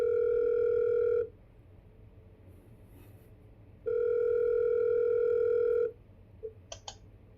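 A telephone ringback tone plays while a caller waits for an answer: two long, steady, clear beeps separated by a pause of silence, with a couple of faint clicks at the end.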